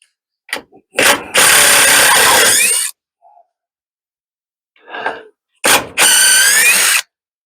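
A cordless power driver drives screws into wood while a chicken roost is built in a pen, loud and close. Two long whirring bursts, each lasting over a second, come with short ratcheting clicks and taps between them.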